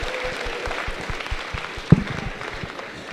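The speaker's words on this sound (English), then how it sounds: "let's give these guys a round of applause just for volunteering" A small group claps for student volunteers at a high school diversity workshop, a brief patter of hands near and moderately loud, thin and scattered rather than a full ovation.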